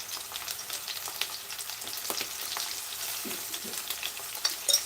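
Ridge gourd curry with turmeric sizzles softly in a pan while a spoon stirs through it, giving faint scrapes over a steady frying hiss, and no one talks.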